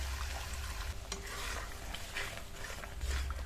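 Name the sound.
frying and stirring masala with nut paste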